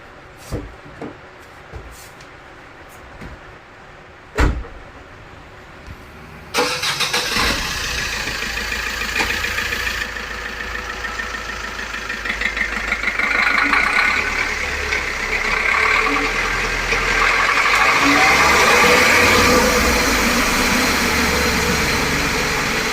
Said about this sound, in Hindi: करते हैं कार को स्टार्ट, फिर सुनते हैं इसका साउंड